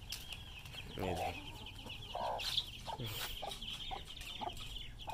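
Chickens and chicks cluck and peep close by in a farmyard, with soft repeated calls over a steady faint background murmur, no talking.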